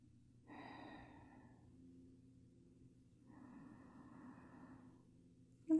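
Slow, deep breaths during a yoga stretch from extended child's pose: two long, soft airy exhalations, close and quiet, separated by a pause.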